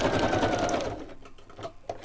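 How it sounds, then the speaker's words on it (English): A sewing machine runs a short burst of zigzag stitching across a paper journaling card, a fast close whirring chatter that stops after about a second and leaves faint clicks and handling noises. "I'll just do a little bit of stitching across there. Might make it zigzag."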